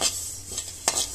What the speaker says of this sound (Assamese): তিলখিনি প্ৰথমতে ভাজি ল'ম।